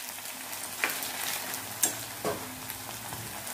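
Cornflour-coated onion slices fry steadily in hot oil for a Kerala-style beef dry fry, a continuous close crackle with a few brief clinks or stirs on top and no talking.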